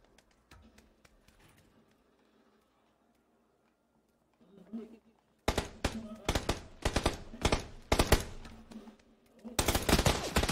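Rapid PUBG gunfire on Xbox One X bursts out in loud, repeated volleys after a quiet stretch with faint talk.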